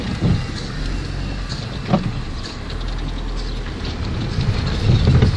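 A car rolls along onto a highway, its engine and tyre rumble a steady close drone inside the cabin, swelling slightly near the end, with no talk.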